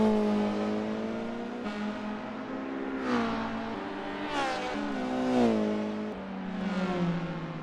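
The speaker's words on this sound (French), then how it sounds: "Jean-Claude avec l'Opel Vectra" A BTCC 1990s-era Opel Vectra race car in the rFactor 2 racing game at Brands Hatch, its engine note rising and falling through several revving sweeps as it passes, steady and fairly loud with no talk over it.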